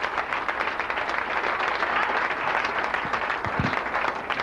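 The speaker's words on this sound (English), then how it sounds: "please, a big round of applause, Chris Hobbs" A comedy club audience applauding a comedian as he is introduced, with steady, close clapping filling the room throughout.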